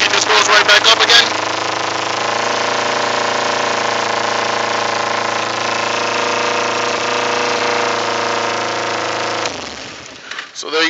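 A 2008 Kawasaki Ninja 250R with a rev problem runs close and loud, holding a steady, high, buzzy idle for several seconds before the engine note drops and shifts near the end.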